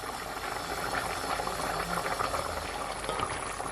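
Jamaican curry goat simmering in a pot on the stove, a steady bubbling boil that holds evenly throughout, close and moderate in level, with no voices over it.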